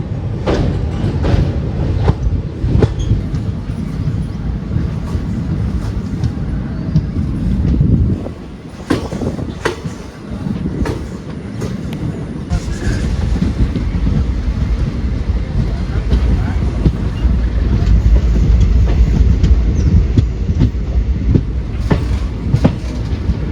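The Vijayapura–Mangaluru Central Express rumbles along the rails with rhythmic clicking and clacking, loud and continuous, with a short lull midway before the rolling noise swells again.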